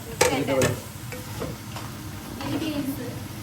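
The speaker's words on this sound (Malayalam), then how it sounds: "ഇതിന്റെ പച്ചപ്പൊന്ന് മാറണ വരെ നമ്മൾ വഴറ്റിയാൽ മതി" Carrots and other vegetables being sautéed in a pan for egg fried rice, soft sizzling under a few scraping stirs of a spatula, close by.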